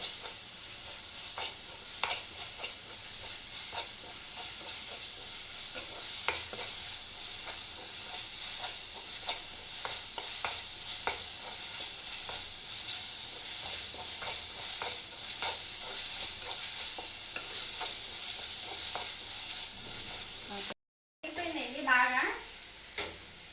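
Masala frying in a pan for a prawn curry, with steady sizzling and hissing and repeated stirring scrapes throughout, close and continuous, then a short break and a brief voice near the end.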